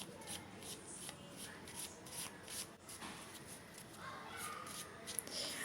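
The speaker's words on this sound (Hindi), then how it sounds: "मैं कार्ड अभी फ़िलहाल शफल करके ही रख देती हूँ" Tarot cards being shuffled by hand, a steady papery riffling and rubbing that runs continuously at close range with no voice over it.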